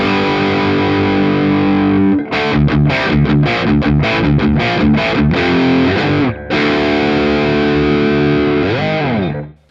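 Saturated rock guitar tone from a Marshall Valvestate 8100 boost channel with the gain raised, loud chugging palm-muted chords in a quick rhythmic run, then sustained ringing chords, close and with no voices.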